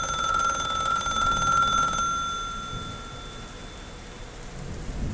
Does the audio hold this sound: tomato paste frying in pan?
no